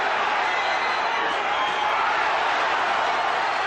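Loud, dense roar of a boxing crowd erupting at ringside, a continuous wall of cheering and shouting that holds steady throughout without a break.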